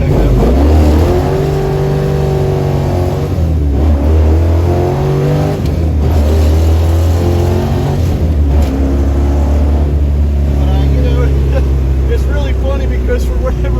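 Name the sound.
1971 Dodge Challenger 440 four-speed accelerating hard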